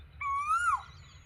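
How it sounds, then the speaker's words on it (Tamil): A black Asian koel gives a single clear, whistled call that rises and then bends down at the end, loud and close over a faint low hum. "இந்த கருங்குயில் மட்டும்தான் கத்திகிட்ருக்கு."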